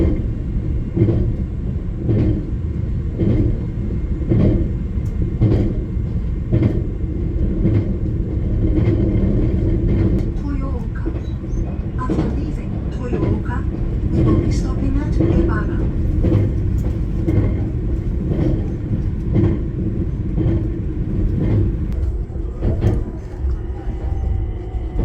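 The Kounotori limited express train bound for Shin-Osaka rumbles steadily on its rails, with rhythmic wheel clicks repeating through the run, heard from on board with a continuous low roar.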